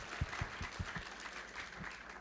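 Applause from a church congregation for the worship band, a dense wash of clapping at a distance, fairly quiet with a few heavier thumps underneath.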